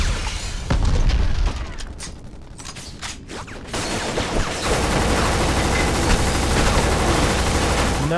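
Heavy booms and rapid gunfire erupt in a video game with destructible environments, a loud barrage of blasts giving way to a sustained roar of shooting and crumbling.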